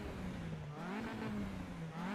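A racing car engine in the Assetto Corsa EVO racing game revs with a steady, loud drone whose pitch dips and then climbs, heard alone throughout.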